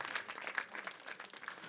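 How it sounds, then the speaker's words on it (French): Brief, faint applause from a church audience, a soft patter of scattered hand claps that continues without a break. "On peut l'applaudir quand même."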